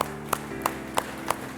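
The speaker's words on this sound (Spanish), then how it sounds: "Le damos un aplauso al Señor," A church congregation clapping, sparse and faint, with about five distinct claps at an even beat spaced roughly a third of a second apart over a low sustained hum.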